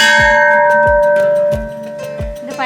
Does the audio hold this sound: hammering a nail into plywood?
no